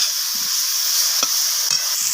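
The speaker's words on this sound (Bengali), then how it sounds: "তো লবণ আর হলুদ দিয়ে আমি বেগুনটাকে আবারও নাড়াচাড়া করে ভেজে নিচ্ছি।" Eggplant pieces with turmeric and salt fry in a pan, a steady hiss with a couple of brief scraping stirs of a spatula, close and alone with no talk.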